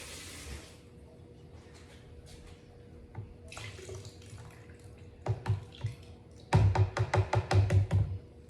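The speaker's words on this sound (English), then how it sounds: "I think I'm just gonna add a little bit of water to it" Water runs from a tap in a few short bursts, ending in a louder, steady splashing stream near the end, with no talking.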